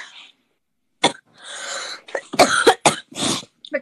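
Several sharp coughs burst out in a close, irregular cluster, with some breathy throat sounds between them.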